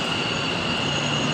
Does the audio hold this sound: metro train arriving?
yes